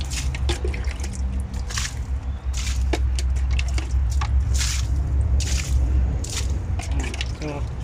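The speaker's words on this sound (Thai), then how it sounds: "เดี๋ยวเราลดน้ำนิดนึง ครับแล้วก็ลดน้ำหน่อยนะครับ ลดต้นกระท่อมไปด้วย" Water is poured over kratom plants and a wild vegetable garden in irregular splashing bursts that patter and drip onto leaves and soil. A low steady hum runs underneath, with no talking during the splashes.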